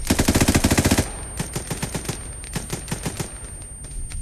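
A machine gun fires in a multiplayer war video game, opening with a loud, rapid close burst, then continuing as quicker, fainter distant bursts that come in uneven volleys, with no talk.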